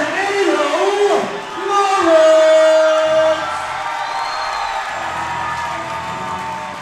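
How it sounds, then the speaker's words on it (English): A crowd at the Hardrock MMA 77 pro main event in Shepherdsville, Kentucky, roars and cheers for fighter Lance Lawrence. The loud, sustained shouting and whooping swells and then settles under a commentator's voice. "The crowd already on their feet for Lance Lawrence."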